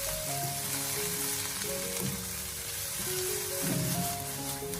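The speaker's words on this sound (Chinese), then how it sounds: "将它快速的翻炒一小会，把它翻炒均匀，将它炒出锅气" Celery with cured pork is stir-fried over high heat in a wok, giving a loud, dense, continuous sizzle with a low steady hum beneath and occasional surges as the food is tossed.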